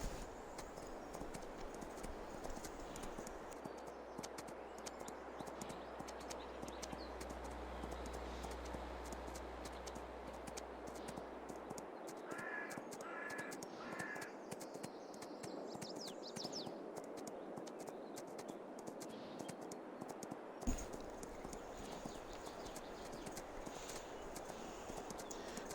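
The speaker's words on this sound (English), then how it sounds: "And next up is horse riding time." Horse hooves clip-clopping in Farming Simulator 22 as a horse is ridden out from the stable, a steady rhythmic patter under continuous game ambience with a low engine-like hum early on.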